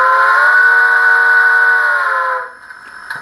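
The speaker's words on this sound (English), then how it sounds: "Short whistle." Steam whistle from a Soundtraxx Tsunami DCC decoder in a brass J-1 model locomotive, a loud, close, chord-like blast that holds for a couple of seconds and then fades out into a quiet electronic hum.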